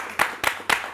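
Short bursts of audience clapping in a studio welcoming a guest to a Montevideo interview, three quick claps or swells, close and fairly loud with no talking.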